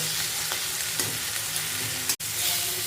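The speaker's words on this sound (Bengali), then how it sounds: "এটা একটু ভাজা ভাজা করে নেব" Onions fry in a pan with a continuous close sizzle and faint crackles, broken once by a brief silent gap. No talking.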